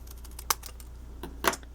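Scissors snipping the corners off paper, two crisp cuts about a second apart, close and fairly quiet with nothing else around them.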